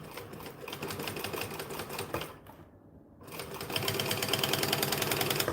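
A sewing machine stitches fabric at a 4 stitch length, an eighth of an inch from the edge, running steadily and close with a brief pause mid-clip before resuming.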